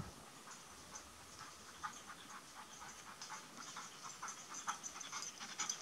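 Dogs panting hard after a chase, rapid rhythmic breathy huffs close by, faint and steady, growing a little louder toward the end.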